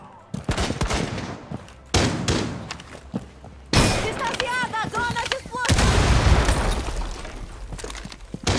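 Explosions and gunfire in a Rainbow Six Siege ranked match, with sharp loud blasts and thuds recurring throughout amid game noise, including a grenade detonation, while players talk over the action.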